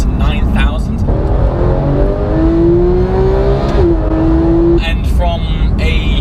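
The naturally aspirated 3.8-litre flat-six of a Porsche GT3 revs high and climbs steadily in a close, loud in-car recording, with a steady road roar beneath.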